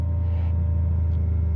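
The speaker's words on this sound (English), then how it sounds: "kind of hard to hear over the loud Bearcat engine" A loud Bearcat car engine drones in a steady low rumble from inside the moving vehicle, close and unbroken.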